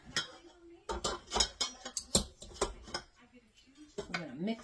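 Chopped pecans and powdered sugar with coconut are stirred in a bowl, giving irregular clinks and scrapes of utensil against dish, fairly quiet and close, with a voice speaking between the stirring strokes.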